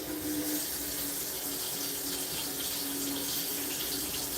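Tap water runs steadily onto cold metal in a sink, a continuous broadband splashing hiss held at an even level for the whole stretch, with no voices over it.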